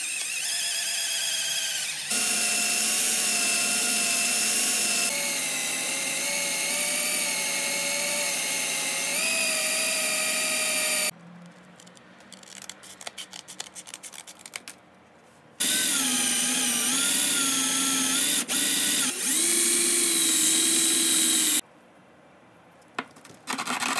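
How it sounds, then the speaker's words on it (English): A power sander working a wooden handle, epoxied onto a restored rusty file, with 60 grit and then finer, in long loud whining bursts separated by short quiet gaps of rubbing and handling, with no talking. "Now we're gonna start sanding it. Gonna start with 60 grit and go up."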